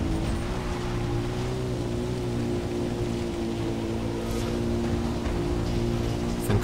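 A quad bike in Far Cry 3 drives along with a steady, unbroken low engine drone that holds at an even level from start to finish, with no voices over it.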